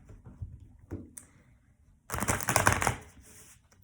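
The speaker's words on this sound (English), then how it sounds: "I think I'll start shuffling the tarot cards" Tarot cards being shuffled at close range, a dense burst of papery riffling and clicks lasting about a second after quieter scattered taps, with no talking.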